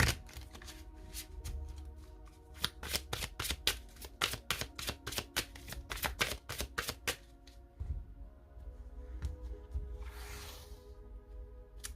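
Tarot cards shuffled rapidly in a dense run of crisp riffling clicks for about seven seconds, then slower scattered card snaps and soft sliding, close and clear with no talking.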